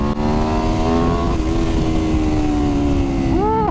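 An Aprilia RSV4 1100 superbike engine drones loud and close at a steady pitch, then the tone swoops upward as the throttle opens near the end.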